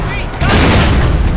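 A grenade blast in the online shooter APB bursts in loud and close, then rolls on as a dense, heavy boom with crackling gunfire-like debris for about a second.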